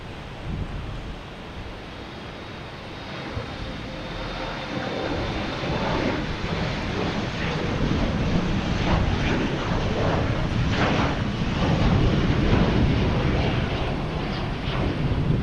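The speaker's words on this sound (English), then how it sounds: "All right, next to arrive is Southwest Airlines." A Southwest Airlines Boeing 737 MAX 8 arriving from Denver at Boston Logan Airport, a broad jet roar building gradually from a distance to a loud, rumbling pass with wind buffeting the microphone.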